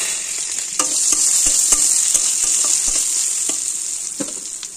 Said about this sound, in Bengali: এইদিকে দিয়েছি এই যে পটল ভাজা